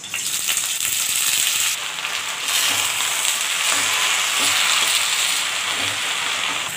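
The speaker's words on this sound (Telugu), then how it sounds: "ఈ విధంగా స్లో ఫ్లేమ్లో వేయించాలన్నమాట" Gongura (sorrel) leaves fry in hot oil over a slow flame, giving a steady, loud, close sizzle with faint stirring scrapes throughout and no voices.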